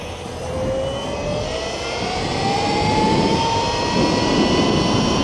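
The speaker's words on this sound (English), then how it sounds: "let's check out this top speed run here" A micro MotoGP bike engine on a top speed run whines steadily as its pitch rises slowly, with a loud, continuous rushing drone that builds toward the end, with no talk.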